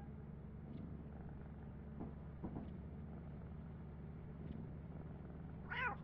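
Cats in the modded Lethal Company video game give soft, faint meows and purring over a low steady game hum, with a sharper, rising meow near the end.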